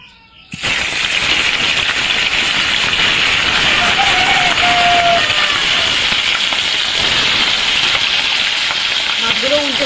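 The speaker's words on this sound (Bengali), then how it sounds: "তেলটা গরম হয়ে গেছে, মাছগুলো দিয়ে দেব।" Turmeric-coated fish pieces drop into hot oil and set off a sudden loud sizzle. The dense hissing crackle then holds steady and close, with faint clinks near the end.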